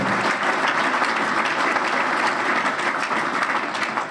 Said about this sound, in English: So a big round of applause for all the kids in all of our clubs